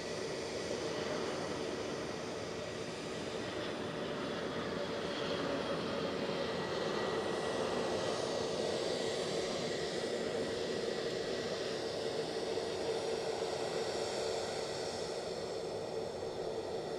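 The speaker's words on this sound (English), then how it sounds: "It's coming in, he's giving it a go." A distant airliner approaching to land at Edinburgh Airport gives a steady, broad engine roar with a jet whine. It holds at an even, moderate level throughout, with no one speaking.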